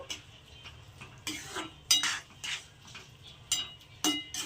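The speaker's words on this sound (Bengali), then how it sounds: "এবার আমি ক্যাপসিকামটা আর পেঁয়াজটাকে দিয়ে দিলাম তো এটা পেস্টের সঙ্গে ভালো করে মিশিয়ে নেব" A spatula clinks and scrapes against a pan in separate bursts while capsicum and onion are stirred into a paste for chilli eggs, over a quiet low hum with only faint sizzling between strokes.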